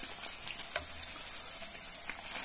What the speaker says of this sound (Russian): Все, у меня жарится.